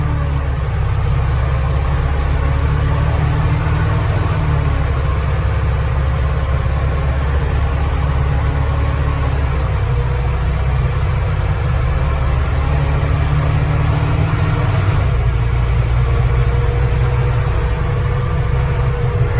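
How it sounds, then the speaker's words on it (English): A steady low pickup truck engine drone from inside the moving truck, with the pitch rising and dropping as the transmission shifts through gears, under constant road noise. "you can hear the transmission through all the gears. The engine runs great"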